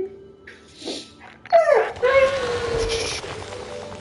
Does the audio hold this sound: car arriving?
no